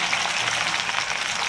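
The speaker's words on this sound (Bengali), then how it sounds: "আলুগুলো ভালো করে ভেজে নেব।" Potatoes frying in hot oil, giving a steady, even sizzle that stays close and continuous throughout with no voices over it.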